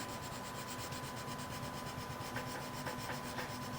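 A colouring pencil is pressed hard and burnished onto paper, making a faint, continuous rubbing close by over a low background hum.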